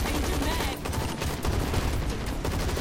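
Enemy soldiers fire guns in the Zombies Monsters Robots video game, a dense, continuous crackle of rapid gunfire that fills the whole stretch at close range.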